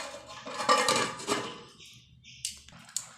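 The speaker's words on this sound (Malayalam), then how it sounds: "അടച്ച് വയ്ക്കാം നമുക്ക്." A lid clatters onto a pot of simmering sardine fish curry, a clanking metal-on-metal knock followed by a couple of lighter taps, close and clear with no talk.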